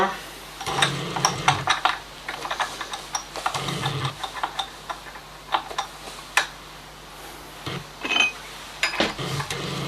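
A hex socket screw on a Yamaha motorcycle fork is tightened with a hand tool, giving a run of close metallic ticks, clicks and clacks in irregular bursts, with brief low hums between them.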